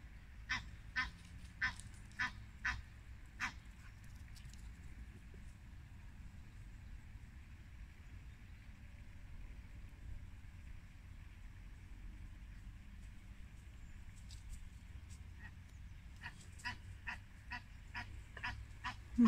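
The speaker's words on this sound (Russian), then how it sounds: "Тут утки раскрякались." Farmyard ducks and geese, startled by a squirrel, break into loud bursts of honking and quacking in autumn woods on a hillside, with one cluster at the start and another near the end around a quieter stretch.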